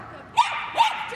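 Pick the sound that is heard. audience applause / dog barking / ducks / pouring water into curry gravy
dog barking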